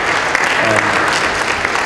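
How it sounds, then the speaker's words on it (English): A room of festival-goers at a film industry content market in a hotel applauds panelists, dense continuous clapping filling the whole moment, close and loud. "can you give them a round of applause?"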